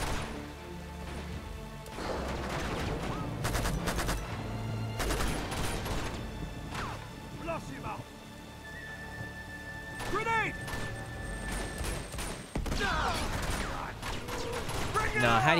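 Rapid bursts of video-game gunfire from Uncharted 2: Among Thieves crackle through a busy combat scene, with sharp repeated shots and impacts over a steady game soundscape while someone talks excitedly over the action.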